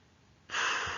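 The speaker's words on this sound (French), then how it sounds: "Expiration, soufflez fort" A hard, forceful exhale is blown out during a sophrology relaxation exercise, released after a held breath and leg tension. It comes as one loud, sustained breathy rush that starts abruptly and holds steady, close to the microphone, with no talking.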